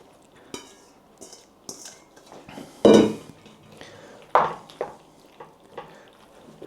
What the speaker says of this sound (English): So we can get the macaroni added in and stirred through.